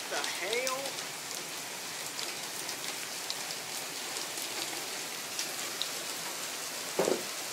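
Heavy rain, with some hail, pours down outside in a dense, constant hiss of drops hitting surfaces, joined by a brief voice near the start and a sharp knock near the end.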